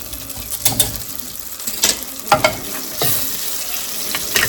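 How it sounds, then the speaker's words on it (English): Onions stirred in a pot for onion soup, sizzling steadily and close by, with a series of sharp scrapes and clatters from the spoon against the pot as they are moved. "Give your onions a stir so they don't burn there."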